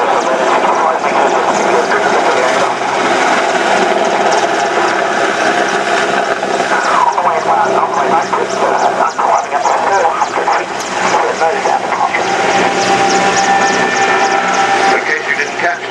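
A helicopter flies close by at an air show, its loud, continuous rotor and engine roar filling the scene with steady intensity, with faint voices beneath.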